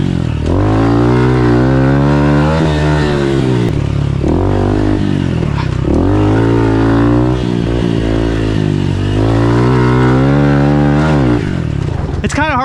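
A Yamaha YZ450F dirt bike engine in first gear revs up and down loudly and continuously, close to the rider, with a buzzy rising and falling tone through repeated throttle cycles.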